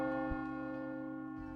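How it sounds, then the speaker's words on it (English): A bell rings with a sustained, resonant tone, a soft struck stroke near the start and another near the end, fairly faint and alone. "that's why you're hearing the bell 6 times"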